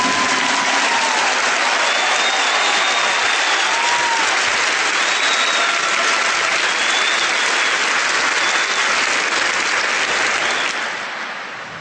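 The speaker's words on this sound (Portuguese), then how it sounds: "Give the Lord a big clap for" A church congregation claps for the Lord in sustained, dense applause that holds steady for several seconds, with faint voices mixed in, then fades out at the end.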